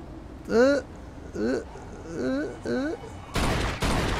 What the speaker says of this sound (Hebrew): לא ציפיתי להרבה יריות